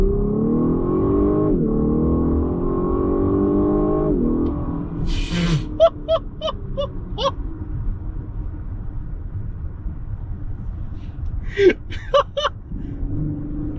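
A 2023 Lexus LS500 F-Sport pulls hard from near standstill, a loud sustained engine note climbing then dropping with a gear change, followed by lower rumbling road noise with a few short vocal gasps and exclamations over it.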